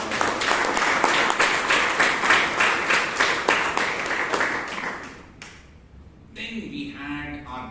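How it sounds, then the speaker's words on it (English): A room full of people at a Toastmasters meeting in Bangalore clapping steadily for about five seconds, then fading out, followed by a brief pause and a voice starting to speak. "please give Hannah a big round of applause."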